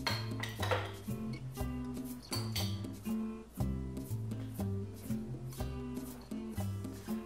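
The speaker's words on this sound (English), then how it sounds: "Just take a spoon and fill your Squeezy Snacker to the desired amount." A spoon scrapes and clinks against a bowl while filling a Squeezy Snacker silicone reusable food pouch, in a quick rhythmic run of scoops and knocks.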